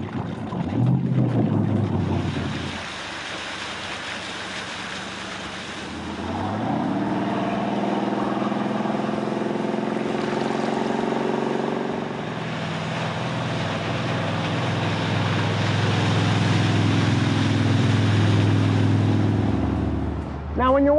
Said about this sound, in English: nothing beats the sound of a classic V8 PCM firing up.